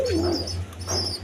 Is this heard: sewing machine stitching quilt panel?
no